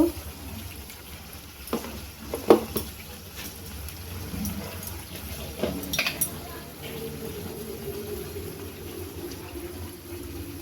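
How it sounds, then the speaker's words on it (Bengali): Jackfruit kofta curry ingredients fry and are stirred in a pan, with a low sizzle, a few utensil clinks and scrapes, and a voice talking faintly in the background. "এটাকে সুন্দর করে ভেজে নেব"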